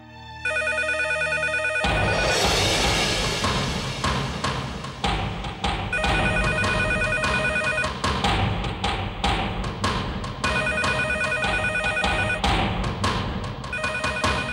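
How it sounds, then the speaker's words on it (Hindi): A telephone ringing repeatedly in bursts of electronic trills, loud and close, over a thumping background beat. "उसी का फोन है, मैं देखता हूं।"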